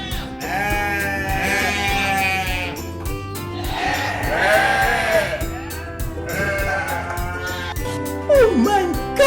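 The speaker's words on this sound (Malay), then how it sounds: "Kacau kambing." A goat bleats loudly and repeatedly at close range during a family wedding event in Ipoh, its wavering cries running almost continuously with a few brief breaks and a final sharp call.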